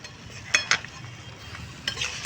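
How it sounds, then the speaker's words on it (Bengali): Ripe jackfruit fibre curry with ghee stirred in a pan: a few sharp spatula scrapes over a low, steady sizzle, close by. "এবার দিয়ে দেবো ওপর থেকে একটু ঘি ছড়িয়ে। চলো একটু নেড়ে দিই,"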